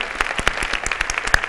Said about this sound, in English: let's give a big applause to the winners